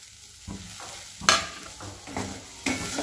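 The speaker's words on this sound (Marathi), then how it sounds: "कोथिंबीर घालून व्यवस्थित असं मिक्स करून घेऊयात" Papad chutney stirred together with chopped coriander, heard as a few quick scraping strokes against the pan with a light sizzle beneath, close and fairly loud.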